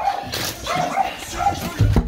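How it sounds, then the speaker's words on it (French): A neighbours' dog yelps and whines nearby in a home. Short, high, strained cries repeat over a couple of seconds, ending in a heavier bark-like burst, with no speech. "Ah, le chien des voisins"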